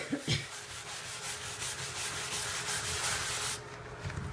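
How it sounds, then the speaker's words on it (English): Vigorous scrubbing of hair dye off a sink with BKF cleaner, a steady rapid rubbing that runs close and loud for several seconds before stopping. "Use your muscle. And scrub, scrub, scrub."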